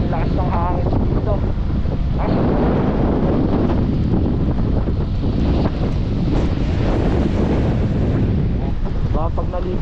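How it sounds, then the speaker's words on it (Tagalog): Strong typhoon wind during Typhoon Pepito, loud roaring gusts buffeting the microphone almost without pause, with a voice shouting over it in places. "Itong bagyo mga tol, sobrang lakas ng hangin dito."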